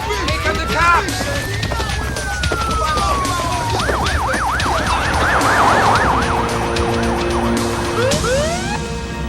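Loud, overlapping ambulance and police sirens, one sweeping slowly and another yelping rapidly, blare close by while people shout over them.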